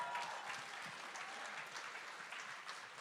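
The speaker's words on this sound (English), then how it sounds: "Round of applause for Joanna." Audience applause for Joanna at a political event with Jagmeet Singh, a dense even wash of clapping from a crowd, faint and somewhat distant, lasting throughout.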